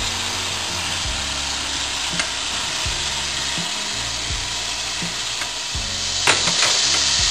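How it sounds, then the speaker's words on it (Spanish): Finely chopped onion sautéing in hot oil in a frying pan for tuna loin in sauce, a loud, steady hiss with occasional faint knocks near the end. "vamos a echar la cebolla que ya la tenemos picadita. Y la sofreiremos"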